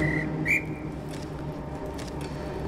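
A whistle blown at a train station in Gerda: A Flame in Winter, two short shrill tones near the start, the second a brief sharper blast, over a low ambient hum.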